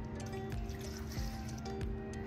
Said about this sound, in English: You're gonna add 2 cups of milk.